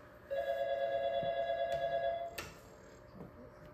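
A Yealink T53 desk phone gives a steady electronic ringback tone as a call goes through, holding for about two seconds before a click and fading to quiet room noise, close and without speech.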